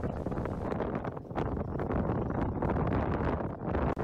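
Hallberg Rassy 35 sailboat under sail past La Maddalena in the Maddalena archipelago: loud, continuous wind buffeting and rushing air close to the microphone, with no talk.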